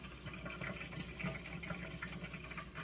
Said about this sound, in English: As you can hear, there is a ton of grease in there boiling.